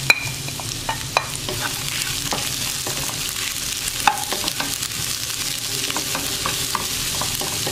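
Chillies stir-fried with fresh vegetables in a pan, a steady close sizzle broken by repeated spatula clicks and scrapes, one sharp knock midway, with no one talking.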